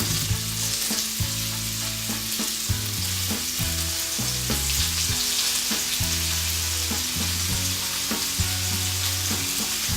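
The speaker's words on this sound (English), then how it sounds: "now I'm going to very carefully place my tofu into the pan" Tofu sizzles steadily in hot oil in a wok for a veggie stir-fry, a bright continuous hiss under a prominent melodic music track, with no talking.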